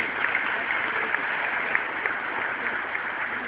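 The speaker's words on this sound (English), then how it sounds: "Let us give them, the parents and guardians, a round of applause" Graduation ceremony crowd applauding the parents and guardians, a steady, dense wash of many hands clapping at moderate distance, sustained evenly throughout with no one speaking over it.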